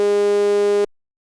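A looped sine wave with discontinuities gives a buzzy tone rich in harmonics that sustains steadily for under a second, then cuts off quickly into silence.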